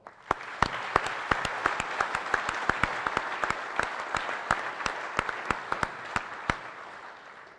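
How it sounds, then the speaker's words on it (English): Audience applause at a Fort Knox garrison change of command ceremony: a sustained wash of crowd clapping with a few sharp, loud claps standing out near the microphone in a steady rhythm, tapering off at the end. "I am going to ask everyone to give them one more round of applause."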